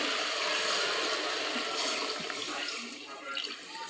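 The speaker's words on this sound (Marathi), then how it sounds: "त्यानंतर पाणी ओतून घ्यायचं." Water poured into a pot of vegetable curry as it cooks, a steady hissing pour that is close and continuous before tapering off near the end.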